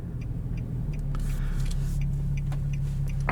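The 3.7-litre V6 of a 2014 Infiniti Q60 IPL produces a steady, low, throaty exhaust drone at cruising revs, heard from inside the car over road rumble and faint cabin rattles.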